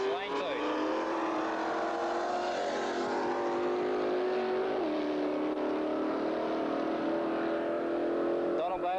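Two 302 Ford utes, an XW and an XY, run side by side in a drag race, their V8 engines roaring steadily with rising pitch as they accelerate down the strip. A commentator talks over the engine noise.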